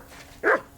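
A single dog bark from the video game Kingdom Come: Deliverance II, one short, close and moderately loud burst standing out against quiet background ambience.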